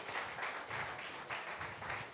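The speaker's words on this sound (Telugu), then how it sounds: "చప్పట్లు కొడదాం" A church congregation claps together in faint, rhythmic bursts of applause at a Pentecost service, heard from a distance.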